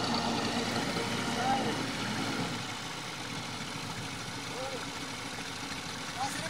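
A tractor engine runs at a steady idle with a low, continuous rumble, while people talk over it nearby.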